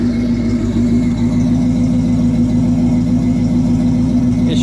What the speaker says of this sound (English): It should idle smoothly.